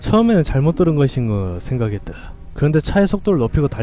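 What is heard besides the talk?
No everyday noises stand out.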